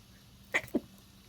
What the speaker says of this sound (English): A sneeze, I felt it coming.